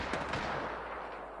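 Rapid gunfire in Apex Legends, a short burst of several quick cracks at moderate distance, heard alone without talk.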